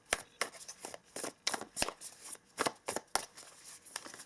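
Tarot cards being shuffled by hand in a series of sharp, crisp riffling bursts with quick irregular rhythm, close and moderately quiet, with no talking.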